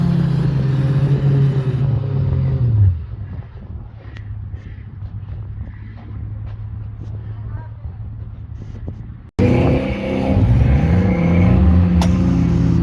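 A Suzuki off-road vehicle stuck on a trail without traction revs hard, its engine note rising and falling loudly up close, then drops to a rumbling idle and surges again while people talk over it.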